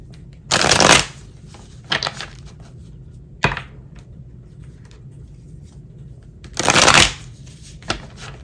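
Tarot cards are riffled in two loud bursts, with softer taps and a sharp snap between them, close by, no talking.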